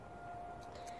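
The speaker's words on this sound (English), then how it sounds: "I feel like this is the only siren that's going off right now" A civil defense siren test sounding from a distance, a steady sustained tone holding across the whole second at moderate, faint loudness over background noise.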